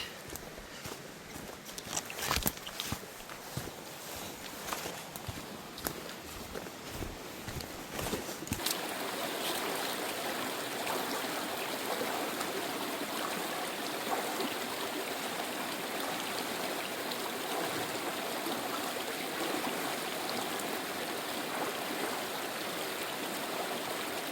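Creek water flows steadily along a hiking trail, a continuous close rushing and babbling with a few footsteps and knocks early on and no talk.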